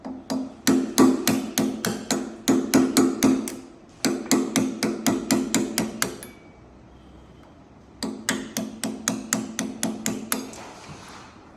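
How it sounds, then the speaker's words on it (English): A hammer strikes a punch to drive a roll pin out of the lift box on a Hobart M802 80-quart mixer. Close, sharp metallic blows come in three fast rhythmic bursts of about ten strikes each, separated by short pauses. "We're going to punch that roll pin out first."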